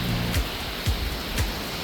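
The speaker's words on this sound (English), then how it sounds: "I can't even go onto the other side without getting rain on me." Heavy rain pours steadily around an RV parked at a gas station after a truck wash, a dense, even hiss with a few low thumps, close and continuous with no voices.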